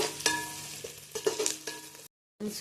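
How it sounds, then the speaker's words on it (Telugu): Finely sliced onions and green chillies frying in oil as they are stirred, a close crackling sizzle with scraping spoon strokes and a faint steady hum, cut by a brief silence near the end. "ఆయిల్లో సన్నగా కట్ చేసుకున్న ఆనియన్స్ వేసుకోవాలి, పచ్చిమిర్చి వేసుకోవాలి, కలుపుకోండి"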